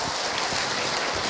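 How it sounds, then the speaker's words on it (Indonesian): A studio audience at a religious talk show applauding: a thick, continuous wash of clapping from many people, even and sustained for the whole short stretch. "Tepuk tangan buat bunda yang bertanya."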